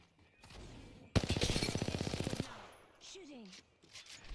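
Rapid machine gun fire in a video game, a dense burst of evenly spaced shots lasting over a second, loud and close, framed by quieter game ambience and voices talking before and after.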